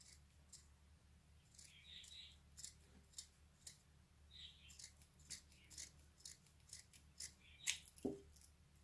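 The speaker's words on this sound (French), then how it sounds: "Je découpe bien les deux côtés de la chaussette." Scissors cut through a sock in quiet, quick snips with a soft rustle of fabric between them, about twenty cuts with a sharper snap near the end.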